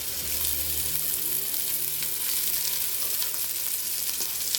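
Onions and vegetables browning in a hot pan give off a steady, dense sizzle that stays loud and even throughout, with faint scrapes of stirring underneath.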